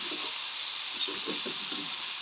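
Food frying in a pan, a steady bright sizzle with soft scraping and stirring strokes of a utensil repeating every half second or so, close and continuous with no talk.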